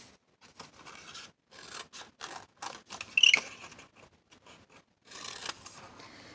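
Scissors snip through a paper label being cut out for a collage, with short, close, intermittent cutting and rustling bursts separated by brief pauses.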